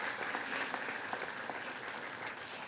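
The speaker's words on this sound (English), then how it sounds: "we'll clap for her anyway" Steady applause from a crowd at a nursing pinning ceremony fills the whole stretch, a dense even patter of many hands clapping at moderate distance.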